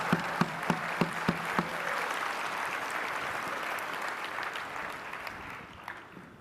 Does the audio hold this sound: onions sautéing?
no